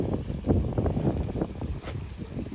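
Wind roars steadily against the microphone in gusty, low rumbling bursts, loud and close, with no voices.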